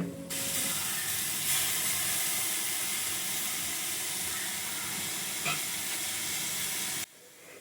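Tamarind juice hits a hot pan of anchovy peera mixture, setting off a loud, steady hiss and sizzle that holds for about seven seconds and then cuts off abruptly.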